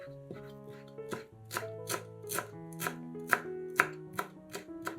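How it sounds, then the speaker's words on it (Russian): A knife chops a bunch of dill on a cutting board in steady, evenly spaced strokes while soft music plays in the background. "Нарезаем пучок укропа."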